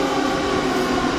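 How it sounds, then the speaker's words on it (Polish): A Warsaw metro train arrives at an underground station, a loud continuous whining rumble with sustained motor tones, heard alone without voices. "Tutaj jeszcze wjazd metra."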